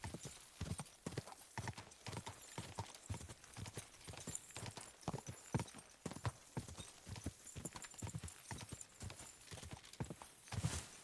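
Rapid, steady hoofbeats of a horse galloping in Kingdom Come: Deliverance II, a continuous clip-clop rhythm close and prominent throughout, with brief snorting and a quiet voice urging it on.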